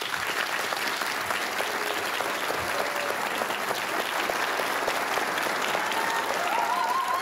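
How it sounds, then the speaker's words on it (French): Studio audience bursting into sustained applause to welcome two performers onto a television variety show stage, a dense steady roar of clapping lasting throughout with no talk over it. "Je vous demande un tonnerre d'applaudissements pour Claude et Mona."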